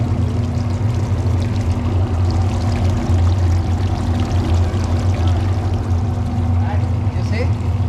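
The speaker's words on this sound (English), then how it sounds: "You see the water coming down?" Water pours steadily down through a cooling tower connected to a self-contained AC unit, a continuous broadband splashing rush over a low mechanical hum from the fan, loud and close throughout.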